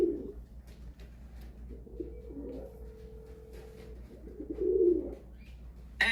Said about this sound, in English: see if he can come get this bird.